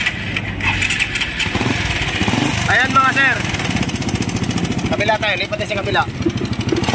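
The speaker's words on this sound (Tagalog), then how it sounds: "ito yung tunog ng makina ni sir" A motorcycle engine runs loud and rough close by, with a busy, rattly noise that keeps going throughout while someone talks over it.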